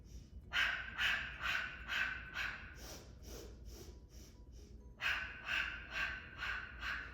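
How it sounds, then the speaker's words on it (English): Pilates breathing exercise: repeated sharp sniffing inhales through the nose and breathy exhales through the mouth, a steady rhythmic series of close, moderately loud breaths with a brief pause midway. "you're sniffing in through the nose, you're breathing out through the mouth"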